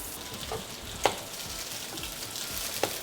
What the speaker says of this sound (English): now I'm going to heat up some butter in a pan and then dip the bread and fry it